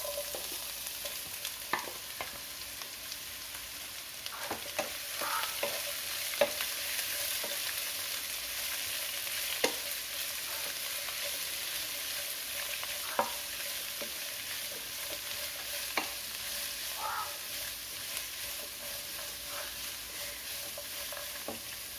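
Sliced onions frying in hot oil for a beef roast, a steady soft sizzle running throughout with scattered clicks and scrapes of stirring, close by and without talk.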